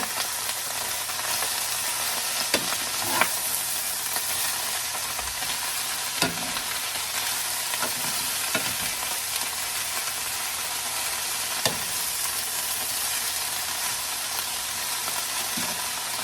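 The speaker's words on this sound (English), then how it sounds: "Now, remember folks, you gotta stir this thing up." Sautéed, steamed cabbage with salted cod sizzles steadily in a pot while a utensil stirs it, with occasional sharp scrapes and knocks against the pot over a continuous close, hissing fry.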